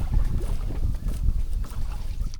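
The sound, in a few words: boat sail flapping in the wind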